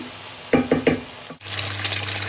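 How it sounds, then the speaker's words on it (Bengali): Onion frying in a pan, with a few quick stirring scrapes followed by a steady, close sizzle. "একটু পেঁয়াজ ভেজে নিচ্ছি"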